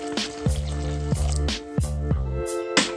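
Hot water poured into a bowl of oats with honey for oat bread, heard as a steady trickling stream broken by several short bursts and splashes, close and moderately loud with no talking.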